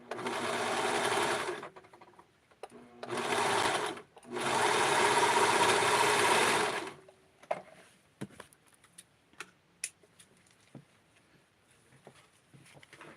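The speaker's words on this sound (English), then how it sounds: "Just put it through the serger and it's so much nicer, so much neater." A serger overlock machine stitching doll clothes runs in three close, loud bursts, the longest about two seconds. Quieter scattered clicks and handling noises follow.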